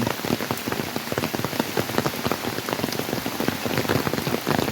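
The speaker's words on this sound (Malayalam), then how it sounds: "മഴ പെയ്യാൻ തുടങ്ങിയിട്ടേ ഉള്ളൂ." Steady rain pattering on surfaces at a hillside temple, a dense, continuous patter of close drops with no voices, filling the scene evenly throughout.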